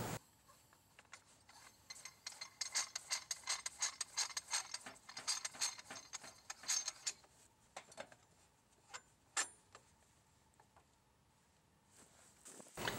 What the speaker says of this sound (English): go ahead and extend it into place to our target that we're going to capture the load at